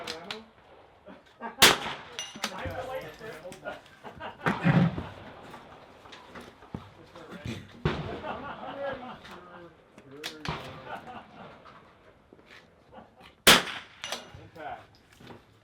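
Sharp rifle shots at an NRL22 rimfire match, each followed by a metallic ring from a bullet striking a steel target downrange, several distinct cracks spread out with people talking between them.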